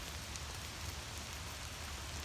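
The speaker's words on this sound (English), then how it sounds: "Can you hear the rain?" Steady rain pattering on surfaces all around, a continuous soft hiss with no voices.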